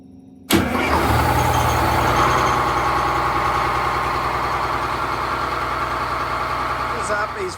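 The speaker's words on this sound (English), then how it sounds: "I'm going to start this engine" Boat port engine cranks and catches abruptly, then settles into a steady, loud, close idle rumble that runs unbroken to the end.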